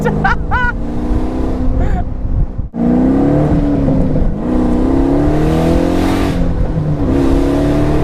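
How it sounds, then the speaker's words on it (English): A Pontiac Solstice fitted with an LS3 V8 accelerates hard, its engine note rising steadily and loud in the foreground with a brief dip midway, while people talk over it. "Wow, this car is fast."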